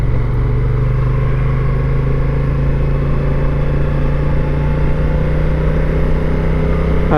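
A Honda Africa Twin motorcycle cruising along a road, its engine a loud, steady, continuous drone mixed with rushing wind from start to finish.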